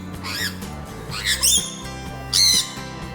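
Lovebirds give several loud, shrill squawks in bursts close by, over a low steady background hum.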